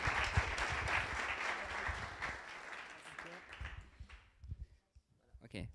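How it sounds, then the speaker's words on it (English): Applause from an audience at a startup pitch event, a moderate round of clapping that tapers off after about four seconds into scattered noises and near-quiet. "Please give a round of applause for Quetel."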